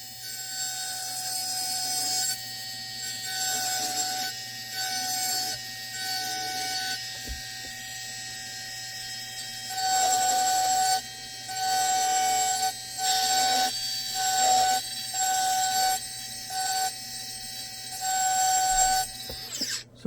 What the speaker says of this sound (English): engraving the finer details now on his beard and his hair.